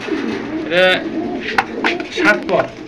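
A male Danish pigeon coos nearby in short, throaty bursts, mixed in with someone talking over it.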